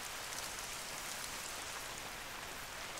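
Steady, dense rain hisses continuously in the hunting game theHunter: Call of the Wild, an even wash of falling water with no breaks and no voices.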